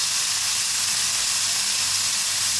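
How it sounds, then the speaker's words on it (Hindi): Minced meat hitting a hot pan with ginger and garlic, sizzling in a steady, loud, continuous hiss close by, with no voices. "तो इसी के साथ में हम डाल देंगे ये कीमा। कीमे को अच्छे से भून लेंगे।"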